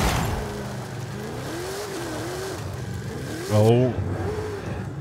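A huge limo with a 1,750-horsepower engine revs while driving downhill in Forza Horizon 5, its engine note rising and wavering, then surging in a brief louder burst as someone talks over it.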